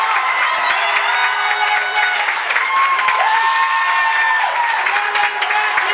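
A crowd cheers and shouts continuously at a girls' high school basketball sub-state final between Smith Center Lady Red and Plainville Lady Cardinals, a loud gym roar with scattered clapping and a few sustained voices rising above it.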